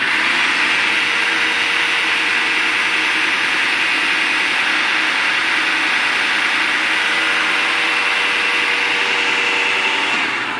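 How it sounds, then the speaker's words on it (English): A blender runs continuously, blending tofu with melted salted dark chocolate into a pudding, a loud steady whirring motor hum that holds for about ten seconds and then drops away at the end. "Blend that up."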